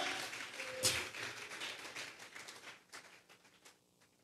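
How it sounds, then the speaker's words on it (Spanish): A church congregation applauds, a dense wash of clapping that fades gradually over a few seconds, no speech over it. "Vamos a regalarle ofrenda de palmas al Dios de la gloria."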